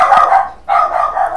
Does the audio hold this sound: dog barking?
yes